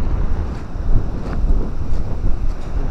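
Wind buffets a microphone at the seashore on Walney Island, Cumbria, a loud continuous rumbling roar with gentle surges and no voices.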